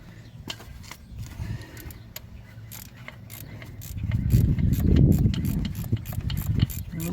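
Wrench loosening a bolt on a 1996 Ford 7.3 diesel engine near the turbo, a series of close metallic clicks and ratcheting over a low rumble that swells midway.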